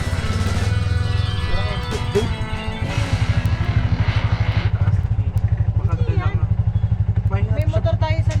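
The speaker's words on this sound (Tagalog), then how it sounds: "May motor tayo sa likod." A motorcycle engine thrums steadily close behind a Bajaj 175cc tuk-tuk on Siquijor, its rapid pulsing putter running throughout while people talk over it.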